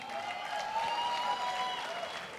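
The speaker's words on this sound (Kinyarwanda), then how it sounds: "amashyi menshi cyane kuri Mavide and Pazzo." An audience applauds steadily, a dense wash of clapping with a faint sustained tone underneath, lasting a couple of seconds.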